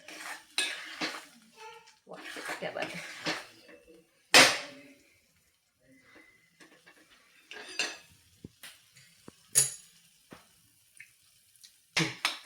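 A spoon scrapes and knocks against a pan while potato pieces are mashed into a thickening sweet potato sheera, with irregular clinks and scrapes separated by quiet gaps.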